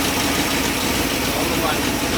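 A 1964 Ford Fairlane V8 idles steadily with a dense, rumbling tone and a faint knock, with people talking over it.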